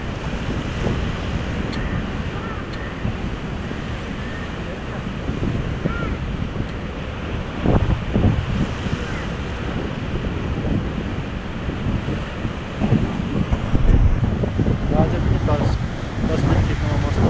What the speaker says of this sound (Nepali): छाल माथि माथिसम्म आइरहेको छ।